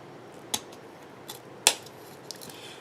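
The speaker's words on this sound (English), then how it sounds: "So I'm going to cut several that are 5 inches." Scissors cut candy cane ribbon into 5-inch pieces. A few sharp, isolated snips sound close by against a quiet background, two of them louder than the rest.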